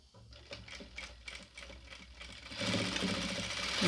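Close sewing machine stitching nightie fabric at a half-inch seam allowance, quick rhythmic needle ticks at first, then a louder, denser run of continuous whirring.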